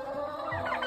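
Backyard chickens and roosters, including Ayam Cemani roosters, cluck softly in a brief, steady burst of low murmuring calls.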